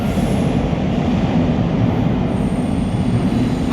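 At London St Pancras International's low-level platforms, a passing train gives a steady, heavy rolling roar of wagons and wheels, with a thin high squeal running over the constant rumble.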